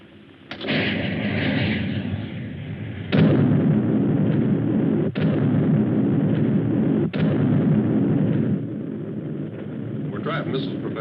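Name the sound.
Trotanic missiles firing, radio drama sound effect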